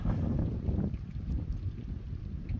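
Steady mountain wind blowing near a lake at sunset, a broad rushing roar buffeting the microphone, fairly loud and continuous with no talking.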